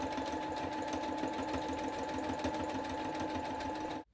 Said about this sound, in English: Let me hem the bottom and sew up this slit on the side.